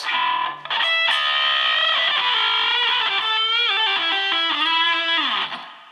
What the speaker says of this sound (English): bending two strings and how you can get a different sound